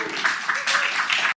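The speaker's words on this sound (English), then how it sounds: "you can hear people in the audience clapping for her" An audience at a religious gathering breaks into clapping after a prayer, a short burst of applause in several swelling waves that stops abruptly.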